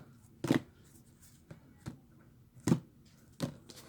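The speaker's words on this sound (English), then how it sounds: "so I'm just going to go ahead and shuffle these." Tarot cards being shuffled by hand at close range, a few separate soft riffling bursts with quiet pauses between them, no talking.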